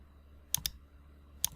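Computer mouse clicking: two quick pairs of sharp, close clicks about a second apart over a faint background hum.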